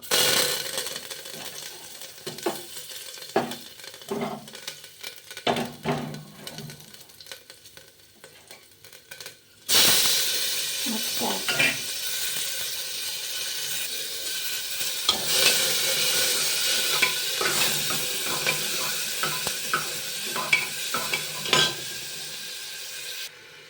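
Mustard seeds, cumin and curry leaves crackle in hot oil for a Gujarati khatiyu, first as scattered pops and scrapes, then a sudden loud, steady sizzle that continues under clinking stirs; no talking.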